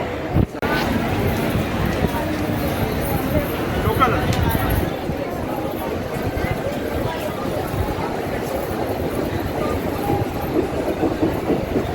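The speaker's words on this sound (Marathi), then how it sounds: "इथं ट्रेन पण निघालेली आहे" Rolling noise of a train departing a station, with rhythmic rumbling and clatter of wagons moving along tracks, close by and continuous, with faint crowd chatter mixed in.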